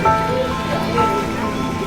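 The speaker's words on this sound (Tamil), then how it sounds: "4 நாளா இங்க எங்க ஏரியால நல்ல மழை." Steady rain falls during flood season, a continuous close hiss of drops on surfaces with no talking.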